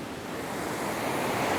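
Water rushes steadily over a small falls beneath a little bridge on a river in central Vermont, a dense, continuous roar heard close up with no voices.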